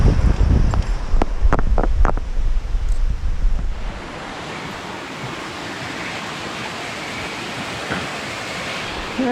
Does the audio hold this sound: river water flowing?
yes